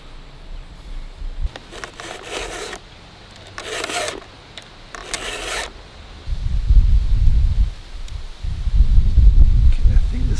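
Hand filing to sharpen metal without a vise: three bursts of rasping strokes, close and rhythmic, followed by heavier low scraping and rubbing later on, with a quiet room behind.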